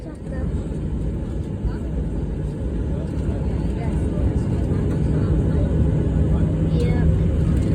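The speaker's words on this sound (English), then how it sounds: "Oh, he's running the engines. He's doing an engine test." Airliner engines spooling up for a pre-takeoff engine test at Antalya, Turkey, heard from inside the cabin as a loud, steady, low roar that holds throughout, with voices talking over it.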